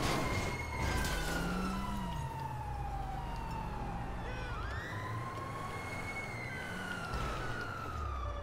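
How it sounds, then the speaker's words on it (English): A steady police siren in GTA V Online wails on its own, its pitch gliding up and down in long sweeps against a low rumbling background. "Can you listen to the siren?"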